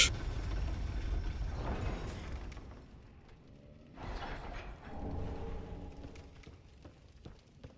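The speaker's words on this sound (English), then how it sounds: "Yep, standard issue elevator" A medieval elevator mechanism grinds and clanks as it moves in the video game Dark Souls 3, with creaking gear and ratchet noises, a dull thud midway and a rattling rumble that trails off.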